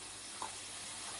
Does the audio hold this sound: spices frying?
yes